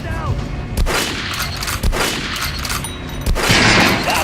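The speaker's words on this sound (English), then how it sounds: "Now shoot the armor, dummy." Gunshots strike an armored target in the shooter Metro: Last Light, a few loud, sharp reports spaced about a second apart with ringing tails, the last burst heavier and louder.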